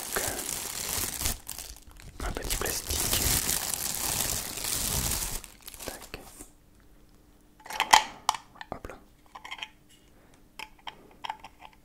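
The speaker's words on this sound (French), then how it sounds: "Du papier à bulle encore une fois." Bubble wrap packaging is handled close up, with dense crinkling and crackling for the first six seconds, then sparse quieter rustles and a few sharper pops and crackles after a brief lull.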